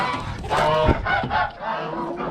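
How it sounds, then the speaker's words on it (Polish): Geese honk loudly and raucously nearby, several overlapping calls in a short noisy burst. "Te gęsi jak się drą."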